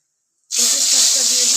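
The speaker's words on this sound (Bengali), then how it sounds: "কড়াইতে সরষের তেল দিয়ে দিয়েছি, শুকনো লঙ্কা দিয়ে দিলাম, অল্প একটু জিরে দিয়ে দিলাম" Dried red chillies and cumin seeds hit hot mustard oil in a wok and burst into a loud, steady sizzle that starts abruptly and holds close and alone.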